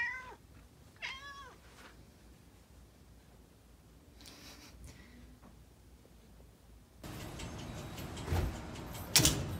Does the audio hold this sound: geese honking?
no